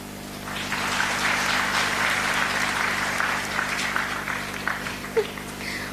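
School audience applauding after a student performance at a Rangotsav cultural event, dense sustained clapping that rises quickly and holds for several seconds before thinning out.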